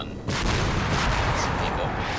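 Tank gunfire in a combat video game, a sudden loud blast followed by a sustained rumbling roar that stays dense and heavy.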